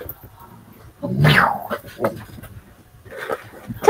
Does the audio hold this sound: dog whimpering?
yes